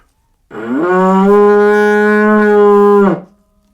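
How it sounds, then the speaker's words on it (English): A loud, sustained reedy drone with a buzzy edge, holding one steady pitch for about two and a half seconds before cutting off. "At the end, you can hear that kind of a buzzing sound if I do it right."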